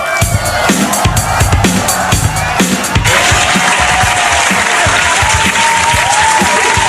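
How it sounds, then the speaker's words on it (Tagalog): A crowd claps in a few scattered bursts that swell into loud, sustained applause with cheering and whoops mixed in. "Sampung palakpak para kay Senator Marcoleta."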